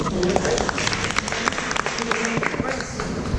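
A crowd on a walking tour in Lima claps steadily for a woman, the dense applause continuous throughout while voices talk over it.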